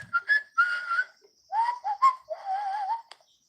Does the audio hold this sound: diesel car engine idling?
no